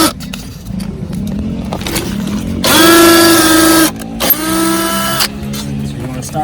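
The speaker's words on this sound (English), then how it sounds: "These are the drill bits that we're using here." A power drill whines in two bursts while drilling a hole for a 2018 Honda Accord air suspension install, the first long and steady, the second shorter, with a person talking before and between them.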